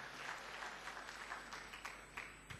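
A church congregation claps during a sermon on Jehoshaphat's prayer, a faint, distant wash of applause with scattered sharper claps standing out near the end.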